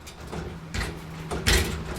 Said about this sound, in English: So I'm just testing out the drawers now, the slides and whatnot, seeing how everything moves.